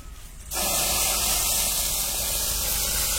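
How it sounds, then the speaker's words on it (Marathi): Hot oil tempering (phodni) for a drumstick pod curry bursts into a loud, sudden sizzle after a brief quiet moment, then holds as a steady hissing crackle close by. "कडक फोडणी बसली एकदम."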